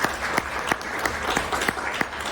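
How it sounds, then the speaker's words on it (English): A conference audience applauds, scattered individual claps standing out sharply over a softer steady patter, fairly quiet and somewhat distant. "let's give a round of applause to these"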